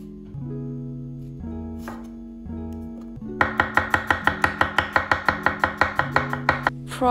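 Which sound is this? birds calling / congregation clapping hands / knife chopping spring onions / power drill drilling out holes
knife chopping spring onions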